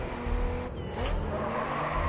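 A race car in Grid 2 sliding through a corner, engine droning steadily with a brief tire squeal, close and loud with no talk over it.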